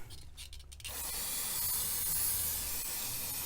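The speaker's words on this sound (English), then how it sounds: "Spraying all this outside stuff down." Cleaner sprays onto a cracked aluminum oil pan as a steady, close aerosol hiss, starting after a brief quieter moment and then continuing unbroken for several seconds.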